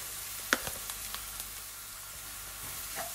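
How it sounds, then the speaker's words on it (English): Onions and curry powder fry in oil in a pan, a low continuous sizzle with a few light scraping clicks from stirring near the start, and no voices. "You want to fry your onions for about a minute, just when they start getting translucent."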